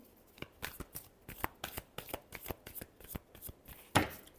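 Tarot cards being shuffled by hand, a steady run of crisp riffling snaps and flutters ending in a louder final shuffle, close and alone without talk.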